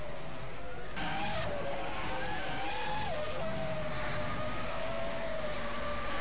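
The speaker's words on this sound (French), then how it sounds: "Gros freinage de Chips." Race car in a sim racing video game braking hard, with tire squeal and a wavering engine tone over continuous game noise, no talking.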